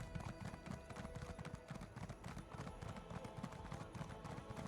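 Horse hooves trotting in a video game set on High Isle, a steady, close clip-clop rhythm running the whole time over a faint background bed.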